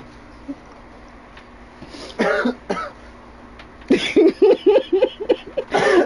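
Repeated coughing from a person, several harsh bursts in a row, fairly close, with a faint steady hum underneath.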